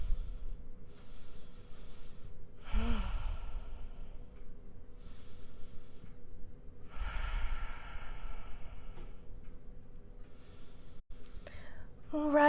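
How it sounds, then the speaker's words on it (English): Slow, deep breaths during a yoga core exercise, two long audible exhalations a few seconds apart, close and soft against a quiet room, with a faint click near the end. "We'll take 3 breaths here."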